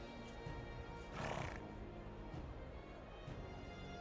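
A horse neighs in the video game Metaphor: ReFantazio, a short whinny amid a dense background of game ambience and faint hoof clops, moderately loud.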